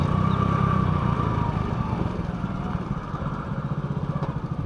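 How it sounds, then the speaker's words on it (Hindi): A car engine drones close by, the revs lifting briefly for a rev-matched downshift before settling into a low pulsing idle-like rumble, with no talking. "हल्का सा एक्सीलेटर देना है, क्लच दबाना है और गियर डाउन करना है।"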